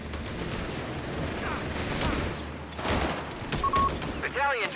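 Heavy machine gun fire in Company of Heroes 3 battle, a dense stream of distant rattling bursts mixed with other gunfire and booms, while game voices shout over the fighting and a radio beep cuts in near the end.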